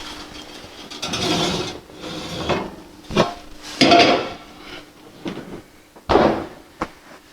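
Very hot baking pots for einkorn wheat bread are handled and set in place, giving heavy metallic clanks, scrapes and lid knocks in separate bursts, close and fairly loud.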